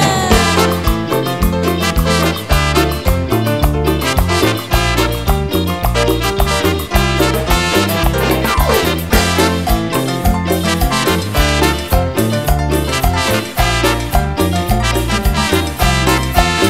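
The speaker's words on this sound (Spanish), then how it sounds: "Y aquí está la cumbia." Steady, dense live cumbia music plays throughout with a driving percussion pulse, bass and melody, loud and continuous with no talking.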